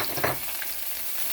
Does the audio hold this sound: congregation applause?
no